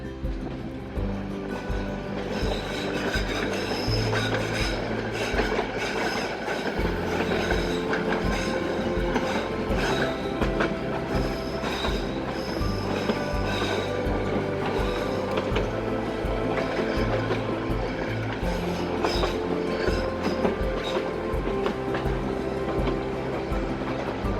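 Haor Express passenger train running at night in rain from Dhaka to Mohanganj, with a continuous loud rumble and rattling of the carriages that stays steady throughout.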